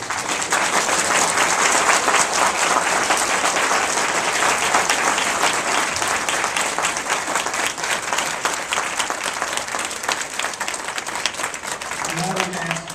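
Loud, sustained applause from a crowd at a school board meeting, a dense wash of clapping that barely eases over thirteen seconds, with a voice faintly emerging near the end.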